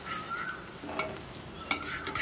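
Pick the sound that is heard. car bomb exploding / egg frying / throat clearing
egg frying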